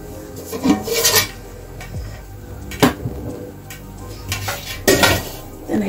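Metal lid scraping and clanking onto a cooking pot of chili, several sharp rasping clinks spread over a few seconds, close and moderately loud with no voices.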